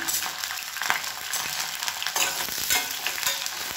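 Small shallots, garlic cloves and curry leaves sauté in hot oil with popping mustard seeds for a tomato side dish, giving a steady close sizzle broken by light stirring scrapes throughout.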